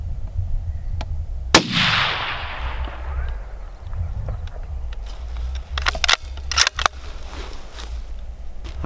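A single sharp rifle shot cracks loudly during a deer hunt and echoes away outdoors, followed by quieter rustling and a few clicks.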